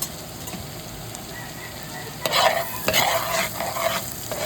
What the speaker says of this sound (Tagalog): hinalo-halo ko lang muna siya. Para hindi masunog yung butter.